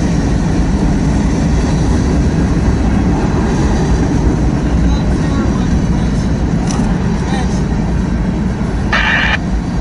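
An eastbound ATSF Santa Fe freight train rolling past, a steady loud rumble of wheels and cars filling the whole stretch, with a brief higher squeal near the end.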